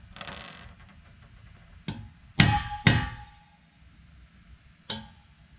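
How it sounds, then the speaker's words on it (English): A hammer tapping the end of a brad point drill bit to mark hole centers in wood: a few sharp, separate metallic taps, close and distinct, spaced irregularly with quiet gaps between. "I'm gonna take my hammer and just tap it on the end."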